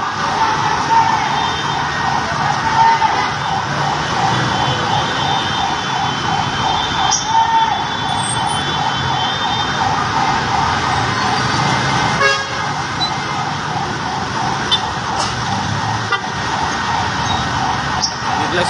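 Fire truck sirens and honking horns ring out at a building fire in Malate, Manila, a loud continuous wash of wailing sirens and engine noise over crowd commotion.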